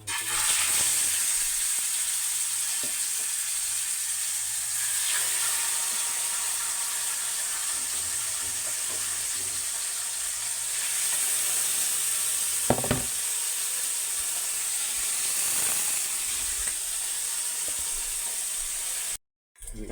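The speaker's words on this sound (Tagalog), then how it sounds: "prito tayo ng pangsahog sa dinengdeng" Pangsahog ingredients for dinengdeng, including salmon, fry in hot oil, giving a steady, dense sizzle and crackle that continues throughout with occasional louder pops and stirring noises, without any talking.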